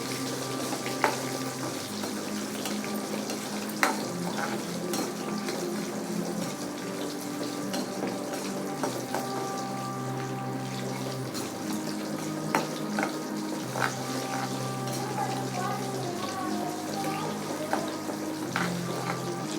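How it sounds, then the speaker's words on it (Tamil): Shallots fry in a pan for garlic chutney with a continuous soft sizzle and occasional clinks and scrapes of stirring, close and steady, no talking. "இப்போ எடுத்து வச்சுருக்க சின்ன வெங்காயத்தை போட்டுக்கோங்க. போட்டு நல்லா ஃப்ரை பண்ணிக்கோங்க."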